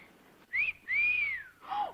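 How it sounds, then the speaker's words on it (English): A whistle sounds in three sliding, tonal bursts, one short, one long and arching, and a final shorter one, clear and fairly close with quiet gaps between. "can blow his whistle, if that's what you want"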